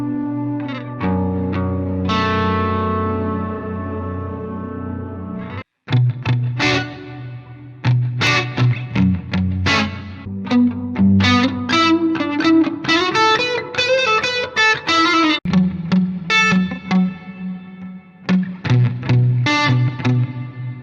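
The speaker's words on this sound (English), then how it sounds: "Let's listen to some audio examples of this reverb plugin." Demo passages run through a GPU-based reverb plugin: processed tones and chords with lush, long reverberant tails and effect coloring, played continuously with a brief break, no talking.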